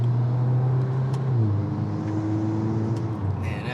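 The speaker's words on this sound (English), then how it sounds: "those turbo noises from the open air intake are just so worth it" Engine and turbo noise from a 2022 Volkswagen Golf R MK8 with an open air intake: a steady, loud drone whose pitch drops and shifts partway through, with a brief airy hiss near the end.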